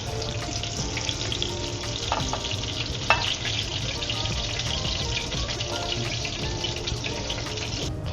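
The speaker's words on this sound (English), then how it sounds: "While your fish is frying" Portuguese sardines fry in hot oil with a steady, dense crackle and sizzle throughout, close and moderately loud, with a couple of brief sharper pops and no voices.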